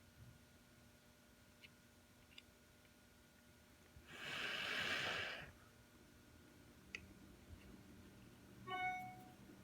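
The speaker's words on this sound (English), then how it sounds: "That was the sound of me blowing on it" A single soft, breathy puff of air blown onto a glued object lasts about a second in a quiet room, with a few faint clicks before and a short rustle afterward.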